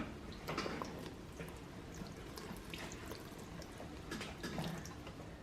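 Half a cup of water poured into a bowl of salt and flour for salt dough, a soft trickling and splashing pour running steadily for several seconds at close range with no talk.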